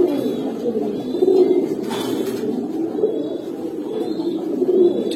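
Pigeons at a pigeon market coo in repeated low, throaty phrases, fairly close and clear, with a brief sharp clatter partway through and light market background.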